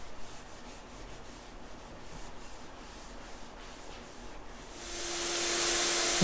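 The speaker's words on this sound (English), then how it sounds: "Now I'm taking a tack cloth and wiping that down, any debris from the steel wool or the colorant." A tack cloth wipes down a water-damaged teak cabinet after steel wool and colorant, a soft continuous rubbing hiss that turns into a louder, brighter sweep in the last second.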